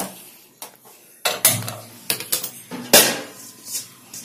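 A cooking pot is handled and set on a stove in a home kitchen, producing a series of sharp metallic clanks and scrapes, some isolated and some clustered, fairly close with quiet pauses between them.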